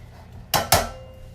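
Metal tongs clatter against a pot of boiling water as broccoli rabe goes in, giving two sharp, close metallic clanks in quick succession over a quiet background.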